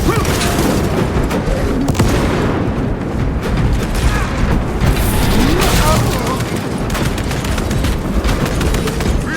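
A frag grenade goes off in the game Warhammer 40K: Space Marine 2, a loud booming blast amid a dense clatter of gunfire and combat noise that fills the whole stretch without letup.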